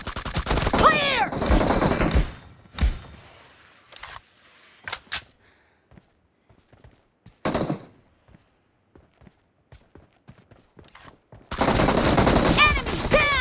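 M416 rifle fire in BGMI team deathmatch play: loud rapid automatic bursts at the start and end, with scattered single shots and footsteps-like clicks between, no voices heard.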